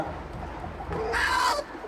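A brooding hen clucks nearby, a few soft low notes followed by a louder, rising squawk.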